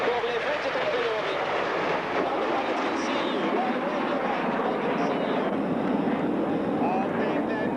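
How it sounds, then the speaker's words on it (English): Frecce Tricolori MB-339 jets performing at the 1994 Buochs airshow in Switzerland, a loud, steady broadband jet roar filling the whole stretch without letup. "MV339 is showing for the Frecce Tricolori"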